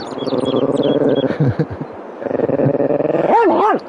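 A dog barks and growls close by in a rough, continuous run, ending in a couple of higher yelping barks.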